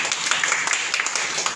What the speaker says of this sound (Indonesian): Tepuk tangan dulu dong buat The Rock Campus.